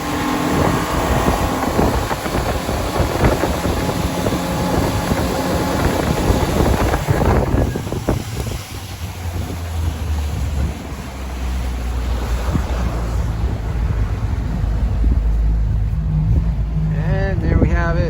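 A 2018 SmokerCraft Pro Lodge boat's outboard motor runs with a steady rumble beneath loud wind and splashing water, with a voice talking over it at times.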